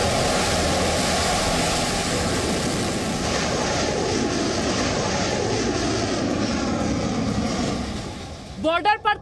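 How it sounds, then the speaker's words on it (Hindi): Indian Air Force Tejas fighter jet flying: a steady, loud broadband jet-engine roar holds throughout, ending with a few short bursts. "ये है भारतीय वायुसेना का लड़ाकू विमान तेजस।"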